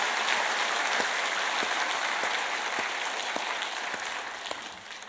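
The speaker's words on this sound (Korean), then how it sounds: "우리 박수로 한번 하나님께 영광을 돌려드리겠습니다." A church congregation claps together in praise during a Korean Sunday service, a dense even patter of many hands that fades slowly toward the end.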